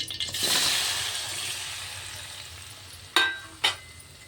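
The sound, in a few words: frying chopped tomatoes in a pan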